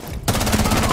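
A sudden burst of rapid automatic gunfire in the video game Rainbow Six Siege starts after a short pause and rattles on steadily, close and loud.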